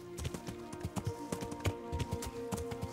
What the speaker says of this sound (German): Ich reite jetzt mal mit dem Pferd nicht direkt in den Wald rein.